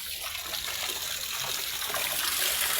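Water from a forest waterfall source trickles and splashes steadily into a water tank close by, a continuous bright wash with no talking.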